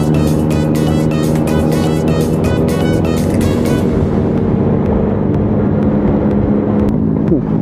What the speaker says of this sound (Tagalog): Parang big bike yung tunog ng motor niya